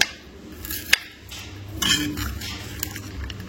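A spoon clinks and scrapes against a bowl while sprouted moth bean and carrot salad is mixed, giving a few sharp metallic taps amid soft stirring, close and fairly quiet.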